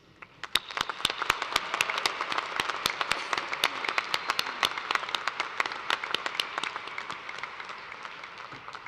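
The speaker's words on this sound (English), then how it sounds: "Please join me in applause to acknowledge the scholastic achievement of all" Audience applause at a graduation ceremony: a steady burst of many hands clapping, fairly dense and even, beginning abruptly and gradually tapering over about nine seconds, heard alone without speech.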